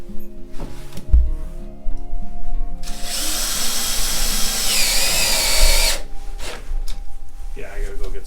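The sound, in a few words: power drill driving a screw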